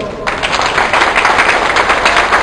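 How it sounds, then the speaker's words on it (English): An audience claps for the chairman of the judges at a Pinoy Idol 2009 singing contest finals in Khursaniyah. Dense, steady applause starts just after a brief quiet moment and fills the rest of the clip. "let us give a warm round of applause to our chairman of the board, chairman of the panel of judges"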